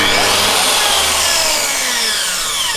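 A power saw screams at full throttle, loud and close, holding a steady high-pitched whine for nearly three seconds while cutting during a garage build for a robotic lawn mower.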